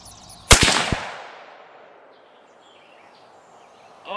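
A single sharp rifle shot from a Savage Axis chambered in 6.5 Creedmoor at an outdoor 100-yard range, loud and close, followed by a long fading echo rolling away into quiet.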